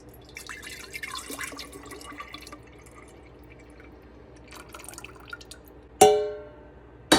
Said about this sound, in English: now we're gonna take this and we're gonna pour it in our half-gallon mason jar